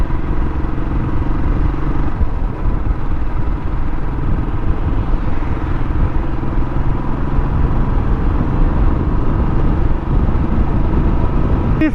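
A motorcycle on a ride heading out through a busy area, its engine giving a steady, loud rumble with wind and road noise throughout, without talk.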